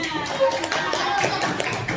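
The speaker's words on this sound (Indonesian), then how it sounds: "Tepuk tangan untuk semuanya" Scattered clapping and tapping from a classroom group during a teacher training session, a brief burst of applause mixed with background voices and room noise.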